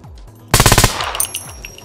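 Automatic gunfire in the SCUM video game, a short rapid burst of about six shots close by, then a fading echo.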